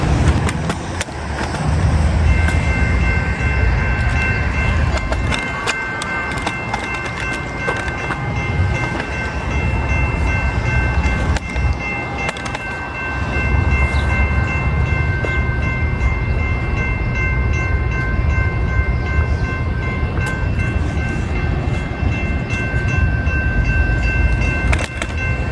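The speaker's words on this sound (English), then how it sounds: "PNSF train number 1304 to Chicago Union Station is arriving in approximately 2 minutes." Train number 1304 rolling past at close range, a loud continuous rumble and clatter of rail cars with steady tonal squeals over roughly twenty-five seconds.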